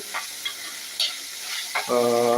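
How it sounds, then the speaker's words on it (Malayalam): A spoon scrapes and stirs fish masala frying in a pan, giving a few short soft strokes over steady sizzle, followed by a brief tonal squeal at the end. "നന്നായിട്ടൊന്ന് ഇളക്കി കൊടുക്കാം"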